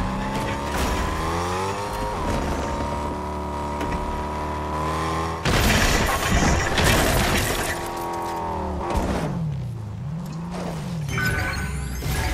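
Cars in the Fortnite video game drive with engine drone, revving shifts and a burst of tire noise, loud and close throughout.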